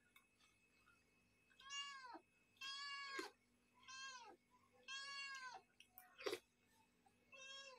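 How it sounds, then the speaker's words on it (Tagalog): A fussy house cat meows repeatedly at mealtime, a series of clear, drawn-out cries spaced a second or so apart, close by and otherwise quiet. "Ikaw maarte kang pusa ka, ha?"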